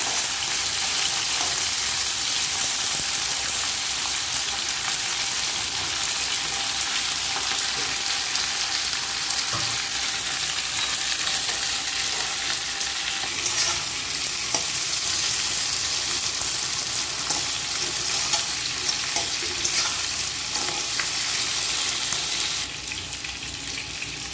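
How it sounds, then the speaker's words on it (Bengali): Eggs and potatoes frying in hot oil in a pan, a dense, continuous sizzle that stays loud and steady throughout, with a few faint clinks near the end. "ডিম আলু আমি একটু ভালো করে লাল লাল করে ভেজে নেবো"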